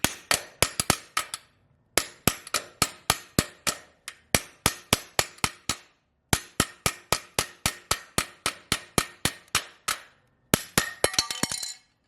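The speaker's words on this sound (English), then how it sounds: "I might have to knock this one with the hammer as well." Sharp metallic hammer blows knock at a part during the teardown of a Harley Road Glide Special motorcycle, landing in fast bursts of eight to twelve strikes separated by brief pauses, close and clear with no talk.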